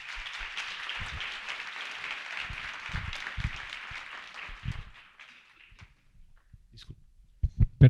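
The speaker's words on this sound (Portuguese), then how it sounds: "E vamos dar uma salva de palmas a todos os palestrantes" A conference audience in São Paulo applauds the speakers at an Italian citizenship event, dense clapping that tapers and fades out after about five seconds, followed by scattered thumps and near-silence.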